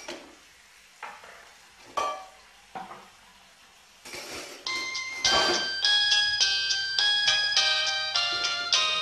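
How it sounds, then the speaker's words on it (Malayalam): A phone rings in a Malayalam home-cinema drama. A few sharp clatters come first, then a loud electronic ringtone melody of bright repeated notes plays continuously, with no talk. "വേഗം ഫോൺ എടുക്കടോ."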